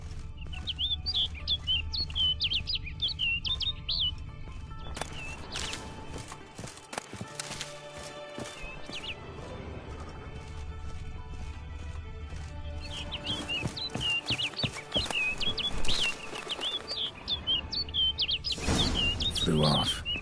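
Chirping bird calls in The Witcher 3: Blood and Wine game, with bursts of repeated tweets at the start and later, amid ambient game noise, hoofbeats of a horse and occasional impacts.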